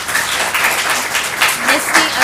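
Applause from the audience at a school board meeting, a dense burst of clapping lasting a couple of seconds, with a voice speaking over it.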